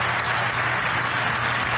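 Steady, dense applause fills the Mexican Senate chamber, a broad wash of many hands clapping continuously at moderate distance, with no distinct voices over it.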